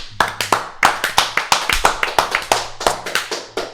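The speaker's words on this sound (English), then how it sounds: "Let's do a round of applause here." A small group claps at a studio show, about a dozen sharp, close hand claps in an uneven rhythm over a few seconds, with no voices.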